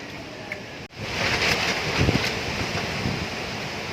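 Strong wind without rain in the Philippines, roaring and buffeting a microphone, a continuous rushing noise with gusty surges and no voices.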